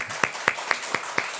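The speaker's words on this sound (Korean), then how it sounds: "힘찬 박수" A church congregation welcoming a new family claps in unison, six sharp, evenly spaced claps at a brisk steady beat over a soft room background.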